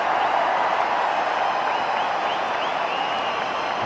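Cricket crowd at a match where MS Dhoni is batting, cheering and applauding as a boundary is struck; a dense, steady roar of noise holds at a constant level throughout.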